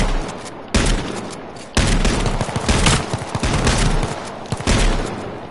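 Gunfire in the battle royale video game H1Z1 comes as loud, close bursts of rapid shots and fusillades, in several sustained volleys with short pauses between.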